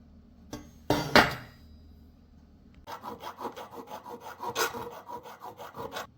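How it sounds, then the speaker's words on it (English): A hand file scrapes down welds on a metal crown sculpture in a series of rhythmic rasping strokes, close and fairly quiet. Scrapes and clinks of handling come first. "I just finished going back and filing down some of those welds I couldn't get to with the angle grinder"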